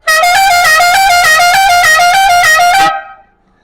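A loud, close popcorn-vendor-style musical car horn on a Ford Maverick sounds a bright multi-tone melody in steady pulses for about three seconds, then cuts off abruptly.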